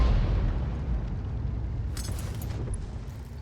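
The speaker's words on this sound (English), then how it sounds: "Direct hit, 406, right into the side of him." Tank shell striking the side of an enemy tank in a World of Tanks-style game, a single heavy, rumbling impact boom close and loud, fading into low rumble with a brief crackle of debris.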